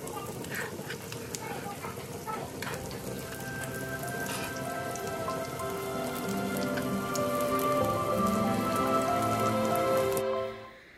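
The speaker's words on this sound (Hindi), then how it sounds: "तो बस यहाँ पे जी अब मैं फ्राई कर रही हूँ कटलेट्स।" Vegetable cutlets fry in a pan with a steady, close, crackling sizzle that grows slightly louder before cutting off near the end.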